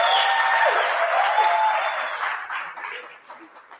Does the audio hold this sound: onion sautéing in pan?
no